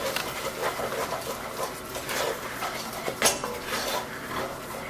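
Roman gnocchi mixture is stirred in a pot, with a spoon scraping and knocking against the metal in uneven strokes, close and moderately loud, with a faint room background.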